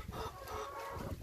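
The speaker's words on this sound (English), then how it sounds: "Oh, my chicken babies." Chickens cluck and fuss nearby in short, overlapping bursts, fairly quiet.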